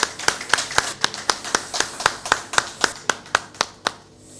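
Clapping rings out in a French conference hall as a presidential-election candidate's delegate is welcomed, a steady run of about fifteen distinct, fairly sparse claps that thin out toward the end.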